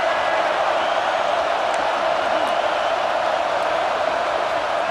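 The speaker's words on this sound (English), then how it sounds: "Here comes the noise from this big crowd in Happy Valley on 3rd down." A big stadium crowd in Happy Valley roars on third down in the College Football 26 video game, a steady, dense wall of noise that holds at one loud level throughout.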